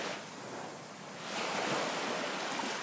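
Sea waves wash onto the beach at Lipa Noi at sunset with a steady hiss, swelling louder as a wave breaks, with some wind noise on the microphone.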